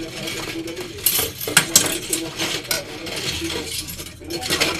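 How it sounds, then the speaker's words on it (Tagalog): Spoons and teaspoons being washed by hand, with metal cutlery clinking and rattling against dishes in an irregular run of close, light clatters over running handling noise. "Kutsara naman po ang ating hugasan."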